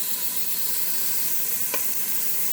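Steady, hissing sizzle of shrimp frying in a preheated Ninja Foodi cooker, constant and close, with one brief clink partway through.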